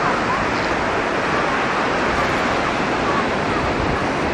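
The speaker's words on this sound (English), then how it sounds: "This big sea." Sea waves at New Brighton beach make a dense, continuous roar of surf, loud and close, with wind buffeting the microphone throughout.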